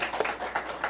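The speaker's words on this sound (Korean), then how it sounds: "박수." Brief applause from a church congregation during a Sunday worship service, a dense wash of many hands clapping steadily with no voices over it.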